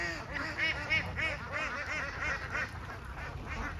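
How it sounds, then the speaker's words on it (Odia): A flock of ducks wandering in shallow water at a farm pond quack steadily in overlapping, repeated calls, close by and fairly loud, with no talk over them. "କେତେ ବତକ"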